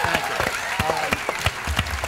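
Audience applause at a tribute evening for a storyteller, a brief burst of clapping under a murmur of voices.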